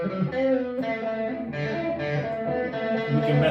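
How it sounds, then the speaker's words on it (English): Sustained electric guitar tones washed in reverb, notes blending into a continuous, ringing wash with no clear gaps. "So let's do a little bit of reverb."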